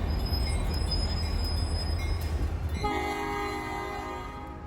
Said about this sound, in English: sounds like a train is coming